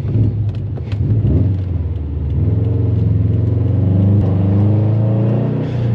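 A Subaru WRX STI engine with full bolt-ons and a dyno tune, about 350 horsepower, rumbles deeply and builds as it revs, the exhaust droning loud and close without any talking.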